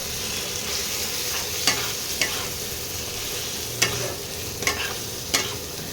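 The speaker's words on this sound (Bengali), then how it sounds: "এবারে এগুলোকে একটু কষিয়ে নিই।" Meat sizzling in a pan with turmeric and chili powder, stirred with sharp scraping strokes at irregular intervals over a constant frying hiss, close up and without speech.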